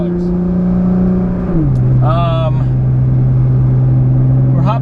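A Nissan GT-R engine drones steadily from inside the car as it accelerates onto the freeway, with a shift in pitch partway through and a voice speaking over the engine noise.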